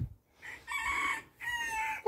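A rooster crows twice in two long, loud calls separated by a short pause, close by and with no voices over it.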